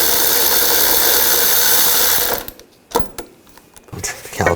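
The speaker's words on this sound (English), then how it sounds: "Now using a 16mm socket, we're going to take the caliper bracket and the caliper off altogether." Socket wrench on a 16mm socket loosening caliper bracket bolts on a 2000-2006 BMW X5, a loud steady powered whir that stops abruptly, followed by a few sharp metallic clicks and clanks.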